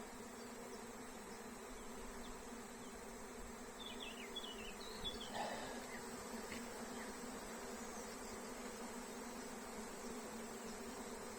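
A honeybee swarm hums steadily at the entrance of a hive baited with a lemon-balm swarm lure, a constant, soft, even drone with faint passing buzzes and no talking.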